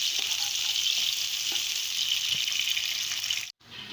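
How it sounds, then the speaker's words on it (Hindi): Onions sizzle in hot oil in a pan while cooking dhaba-style masala bhindi, a loud, steady hiss of frying that runs almost unbroken, with a brief drop just before the end. "अब हम इसमें प्याज शामिल कर देंगे। प्याज को हम बस नरम करेंगे।"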